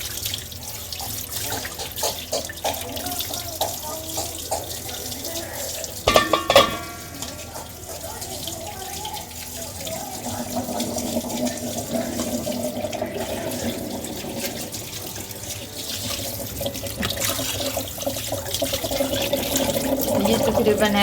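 Running tap water pours over roughly 10 kg of fish being washed for a Lahori masala fry. A steady near stream splashes with occasional clatters of handling, and a person talks faintly in the background.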